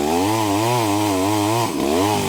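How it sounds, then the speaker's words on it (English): A chainsaw cuts into a tree on a mountainside, its engine holding a loud, steady buzzing whine that dips and recovers briefly as it bites into the wood. "The only thing we're able to bring is chainsaws."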